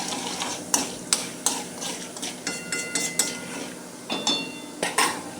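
A spoon stirs turmeric into a dish in a home kitchen, the metal clinking sharply against the pot again and again in an uneven rhythm, close and fairly loud with no talking.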